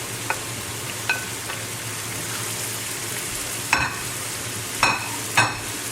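Seafood paella with clams, shrimp and scallops sizzles steadily in a pan while a utensil stirs it slowly, with several sharp scraping clinks against the pan standing out over the constant frying hiss.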